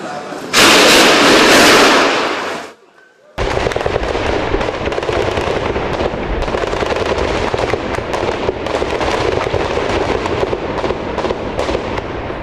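Heavy gunfire and explosions ring out during the army assault on the Westgate shopping complex in Nairobi, Kenya: one loud sustained blast, a short lull, then a dense, continuous crackle of shots, harsh and close.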